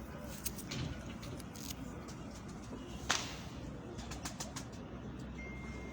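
Pigeons move about at a rooftop loft, with sharp wing claps and flutters, one louder snap near the middle, over faint background noise and soft low sounds.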